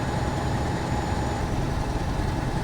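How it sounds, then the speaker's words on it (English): A truck engine idles in a trucking simulation game, a steady, loud low rumble with a constant drone that holds evenly throughout, with no voices. "Why does this truck suddenly sound a lot louder than it used to?"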